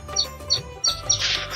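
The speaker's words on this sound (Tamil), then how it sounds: "குருவி சவுண்டு கேட்குதா?" Sparrows chirp in a tree at a trekking spot near a temple in Chennai, repeated bright tweets in quick succession, fairly close and clear, with no talking.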